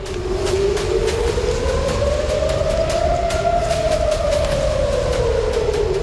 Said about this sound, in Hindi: तेल अवीव में भी शनिवार रात को खतरे का सायरन बजता रहा।